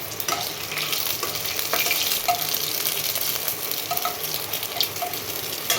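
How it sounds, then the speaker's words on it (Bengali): Dried red chillies and cumin seeds crackle and sizzle in hot oil as a tempering, a dense, steady frying hiss broken by small pops and stirring sounds, with no voices. "প্রথমে শুকনো লঙ্কা দিচ্ছি জিরে ফোড়ন"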